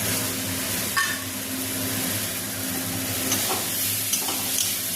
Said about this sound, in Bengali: ভেজে রাখা চিংড়ি মাছগুলো এখন দিয়ে দেবো